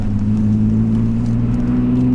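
BMW Z4 driven on a winter road, a steady close engine hum with a low rumbling tone that holds throughout, heard from inside the car.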